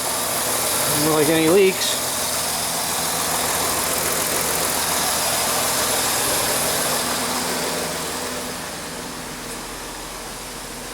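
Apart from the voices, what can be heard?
Jeep Grand Cherokee 3.7 engine running at idle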